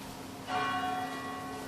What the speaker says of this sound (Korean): 저 종소리